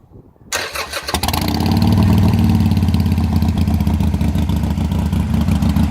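A 2016 Harley-Davidson Iron 883 motorcycle engine cranks and catches, then settles into a loud, fast, high idle on automatic choke, running steadily and close by.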